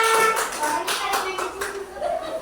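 Students clap briefly in an Indonesian classroom, a short burst of scattered hand claps with a voice speaking over it.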